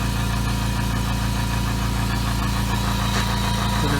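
A Husky Silent Flow 4.6 gallon air compressor runs loudly and steadily nearby, a constant motor drone with a fast rhythmic pulsing throb and no voices.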